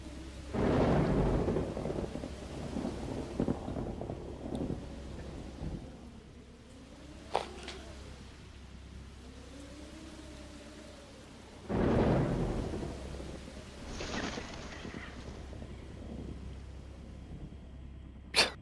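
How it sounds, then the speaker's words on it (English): Wind and stormy weather in the video game Jurassic Park: Operation Genesis, with two loud rumbling gusts or thunder swells separated by a quieter stretch of steady weather noise and a few sharp cracks. "The wind."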